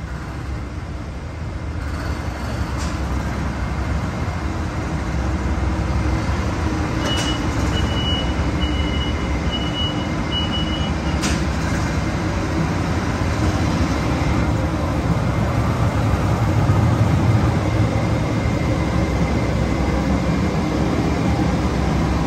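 Amtrak Texas Eagle/Sunset Limited Superliner cars rolling past at 5 am in San Antonio, Texas, a continuous loud rumble and rush of wheels with a few faint high beeps over it.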